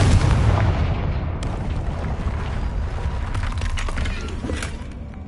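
A Confringo fire spell explodes in the Hogwarts Legacy video game, a loud rumbling blast that opens the moment and then rolls on as dense, crackling debris and rumble for several seconds.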